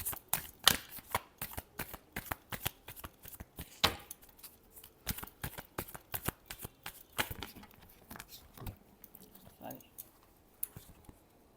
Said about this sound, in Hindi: एक शफल और करूँगी।